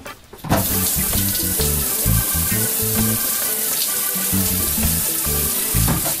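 Shower water runs steadily and loudly after a brief quiet start, a dense continuous hiss and splatter with irregular thumps of water hitting a surface, no voices.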